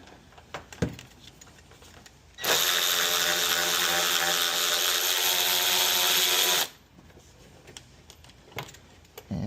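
A ratchet spins a 10 mm bolt out of a Tesla in one loud, continuous mechanical whir lasting about four seconds, with quiet handling noises before and after.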